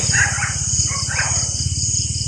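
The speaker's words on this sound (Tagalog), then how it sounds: "Umiingay yung aso tol." A dog barks a few times in the distance at night near a camp, faint and muffled, over a constant pulsing chorus of insects.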